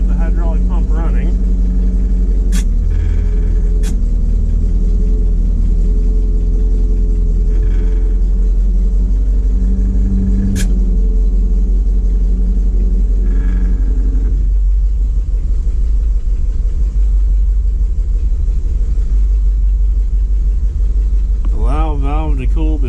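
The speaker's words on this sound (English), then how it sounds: "that sounds like the hydraulic pump running." A hydraulic pump runs on a Ford F700 salt spreader truck, a steady low engine rumble under voices that shifts partway through, with a brief squeal near the end.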